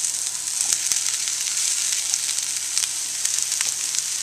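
Onions, peppers and mushrooms sizzle steadily in a frying pan, a dense continuous crackle with a few sharper pops and light stirring clicks, close and fairly loud with no talking.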